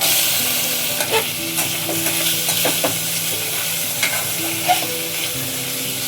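Minced chicken fries in melted butter in a hot pan, a loud continuous sizzle with occasional stirring scrapes and small pops throughout.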